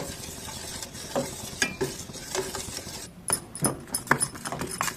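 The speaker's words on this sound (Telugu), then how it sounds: "గట్టిగా అయ్యే వరకు బాగా తిప్పండి." A pan of millet and ragi dough being stirred, giving steady scraping and soft sizzling with irregular spoon knocks, close and continuous.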